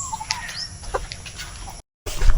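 Pet chickens on a farm cluck and squawk noisily at close range, with a busy overlapping flock chorus that cuts out briefly and then returns louder.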